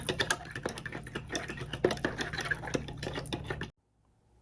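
A utensil clinks and scrapes rapidly against a bowl while stirring a gelatin mixture for liquor and wine gummy bears, a quick irregular tapping rhythm close by that stops abruptly near the end.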